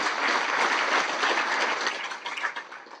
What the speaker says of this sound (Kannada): ಅಂಥ ಚಾಲಕರಿಗೂ ಸಹಿತ ತಾವು ಜೋರಾದ ಚಪ್ಪಾಳೆಯನ್ನು ತಟ್ಟಿರಿ